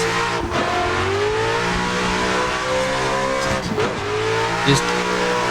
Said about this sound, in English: you want to hold it down like this to keep the drift